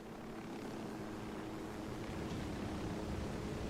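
A helicopter in the game Ghost Recon Wildlands sets down in a landing, its engine and rotor making a steady, dense roar that fills the whole stretch with no talking.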